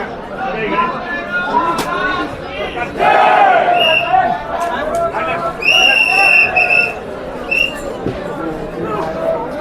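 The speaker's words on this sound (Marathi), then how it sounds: "बघू शकता तुम्ही भाविकांची गर्दी किती आहे." A dense crowd of devotees at the Kal Bhairav temple fills the air with loud, continuous chatter and a few raised shouts, voices overlapping close by.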